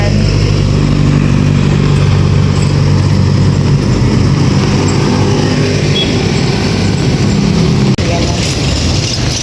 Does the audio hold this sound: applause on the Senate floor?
no